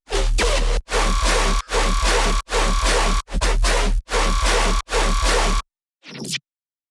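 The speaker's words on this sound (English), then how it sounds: "And I have all these mid basses." Gritty dubstep mid-bass synth stabs layered over a heavy sub bass repeat in a steady pulsing pattern, then stop before a brief, quieter tail.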